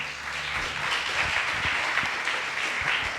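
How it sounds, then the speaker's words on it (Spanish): A church congregation applauding, a dense sustained wash of many hands clapping together, steady and fairly loud from start to finish. "¿Cuántos le dan un fuerte aplauso al Señor?"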